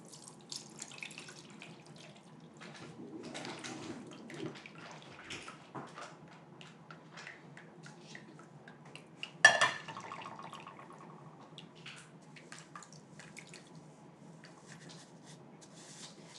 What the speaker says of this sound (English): I'm going to pick up our strainer. And strain out our oil.